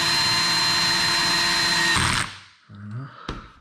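A power driver spins screws into a Traxxas X-Maxx RC car with a steady high-pitched whir that stops abruptly, followed by a moment of someone speaking and a sharp click.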